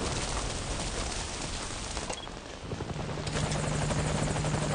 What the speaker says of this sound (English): Alright, there it is. That's our helicopter.